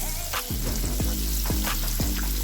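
Steady sizzling of chicken frying in hot oil, continuous and close, with a few soft knocks or taps mixed in.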